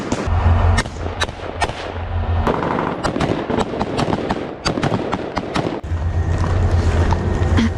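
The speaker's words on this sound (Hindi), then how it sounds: "गोलियों की आवाज आप सुन पाएंगे" Rapid gunfire during an IDF ground operation in Lebanon, loud sharp reports in bursts and scattered single shots with booming low rumbles, continuing through the whole stretch with no talk.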